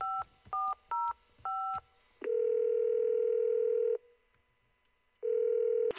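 A phone dials out with four quick electronic keypad beeps, then a long steady ringback tone sounds, a pause follows, and a second ring tone starts, all loud and close.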